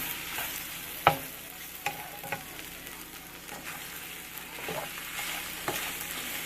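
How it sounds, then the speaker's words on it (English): Eggs and tortilla chips fry in a pan for chilaquiles, a steady sizzle broken by scraping stirs and a few sharper clinks of the utensil against the pan. "you're going to cook and move it around and cook the egg thoroughly"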